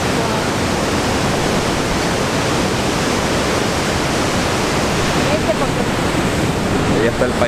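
Roaring water of the Pailón del Diablo waterfall in Ecuador, a loud, dense and constant rush of broadband noise with no pauses, heard close.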